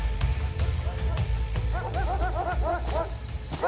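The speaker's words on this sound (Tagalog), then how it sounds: "Aso lang yan dito." A dog barks several times in quick bursts at moderate distance, mixed with a low background rumble and soft voices.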